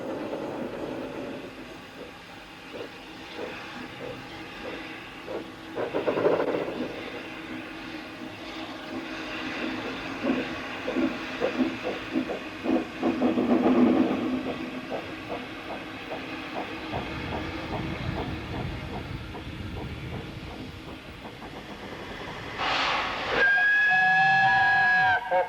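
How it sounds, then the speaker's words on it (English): Double Fairlie articulated steam locomotive David Lloyd George on the Ffestiniog Railway, slipping its wheels on damp rails with a mixed train of slate wagons, giving a rapid, uneven chuffing rumble, steady and moderately close, ending in a shrill whistle. "even a sure-footed, articulated double fairley like the David Lloyd George can slip its wheels on the damp rails."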